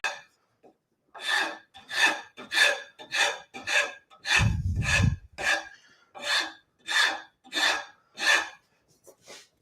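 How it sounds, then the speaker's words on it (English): Half round file dragged across wood in a steady series of about a dozen rhythmic rasping strokes, close and fairly loud, with one deeper scrape midway and no speech. "If I switch and I go to that half round file"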